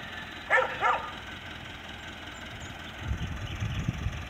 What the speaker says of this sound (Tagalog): Ingay itong mga aso na to.